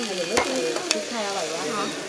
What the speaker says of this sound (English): tray is hot too, and you can just sizzle whatever you want